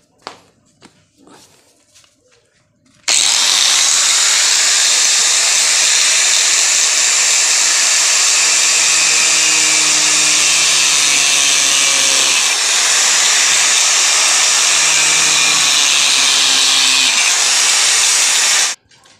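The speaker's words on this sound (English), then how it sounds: "this time I'm going to use a angle grinder to cut this in 6 pieces." An angle grinder cuts a piece of material into six parts, a loud, steady high-pitched whine running continuously for about fifteen seconds after a quiet start, with slight pitch shifts as the disc bites.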